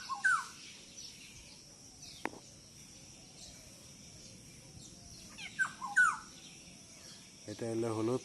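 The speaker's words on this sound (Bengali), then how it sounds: "পাখির ডাক" A few short bird calls ring out at intervals over a quiet outdoor background, with a brief harmonic call near the end.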